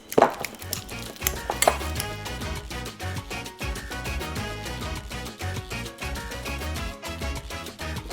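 A fork mashing avocado for guacamole, rhythmic scraping and clinking against the bowl repeated steadily, close and clear with no talk.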